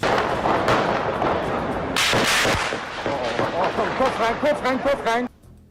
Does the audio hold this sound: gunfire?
yes